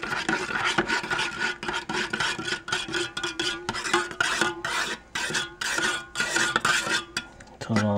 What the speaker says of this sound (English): Give it a stir once you have a clean spoon.